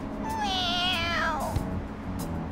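Cat meowing in the Persona 5 video game, a single clear drawn-out meow that rises and falls, loud and close, followed by a brief thump and quiet background.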